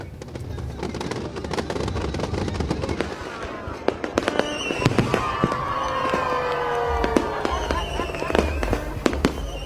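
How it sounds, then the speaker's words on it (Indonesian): New Year fireworks at Bundaran HI, Jakarta, burst repeatedly with sharp bangs and crackles, some whistling streaks, as a crowd cheers and a voice speaks over the noise. "Ada juga pesta kembang api yang menghibur masyarakat."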